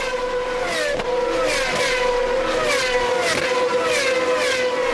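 Onboard view of a 2006 GP2 race car at Istanbul, its high-pitched engine screaming through repeated upshifts and downshifts, with sharp rising and falling revs close to the microphone.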